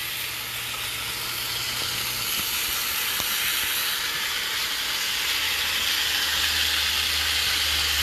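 Oxtails fry in a pot with a steady sizzle and a bright, hissing crackle, constant and fairly close, with no voices.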